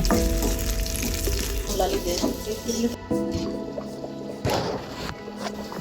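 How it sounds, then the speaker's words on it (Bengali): Onion, cumin and dried chili tempering frying in hot oil for halim, a busy sizzle with stirring and scraping that swells and breaks off near the middle. A voice talks over it throughout. "আমরা পেঁয়াজ, জিরা, শুকনো মরিচ দিয়ে বাগার দিয়ে নেব"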